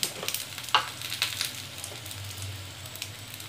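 Fried okra sizzles steadily in a pan while it is stirred, with soft scraping taps near the start that settle into a continuous close frying hiss.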